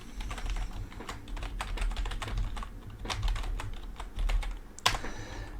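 Fingers type on a computer keyboard, a quick irregular run of soft clicking keystrokes at close range, fairly quiet, with no voices.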